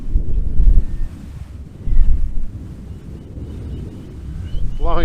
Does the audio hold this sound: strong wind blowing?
yes